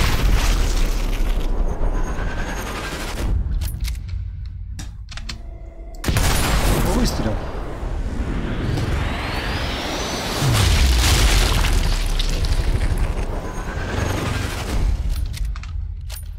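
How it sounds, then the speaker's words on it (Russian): Several loud booming rifle shots in Sniper Elite 4 ring out, each with a sharp attack and a long echoing tail, separated by short gaps of quieter ambience. "теперь внимание, выстрел."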